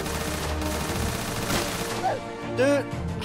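Rocket-propelled grenade blasts and gunfire in the shooter game R2DA form a dense, continuous barrage of booms and crackle, with a sharper burst near the end.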